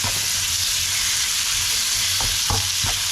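Turkey filling sautéing in a pan gives a loud, constant frying hiss, with a few soft scraping strokes of stirring near the end.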